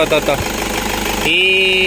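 A Toyota Innova engine idles steadily with a low, even rumble, voices talking over it at first before the hum settles alone.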